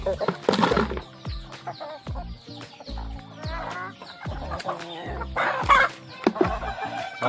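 A flock of free-range domestic chickens clucks busily while eating chopped Italian sweet grass mixed with corn kernels and ready-made feed. Repeated close clucks and short calls overlap, with scratching and pecking noises between them.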